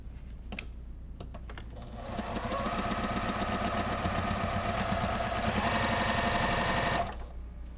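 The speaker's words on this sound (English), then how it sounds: "Put the fabrics right sides together and sew down that seam." Sewing machine stitches a seam on quilt fabric pieces placed right sides together, a fast rattling run of needle strikes, close and loud, starting after a few seconds of quieter handling and ending abruptly.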